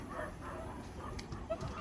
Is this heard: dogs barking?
yes